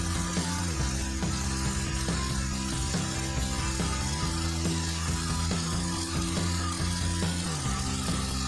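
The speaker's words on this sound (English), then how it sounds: "then we're going to head over to the bandsaw and chop off the top part of the fork." A bandsaw cuts through the top of a steel dirt bike fork during a Honda three-wheeler fat tire conversion, a steady loud grinding whir with a low motor drone and faint rhythmic pulsing, continuous throughout with no talking.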